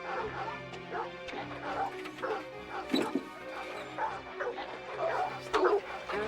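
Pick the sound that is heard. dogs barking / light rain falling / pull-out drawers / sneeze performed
dogs barking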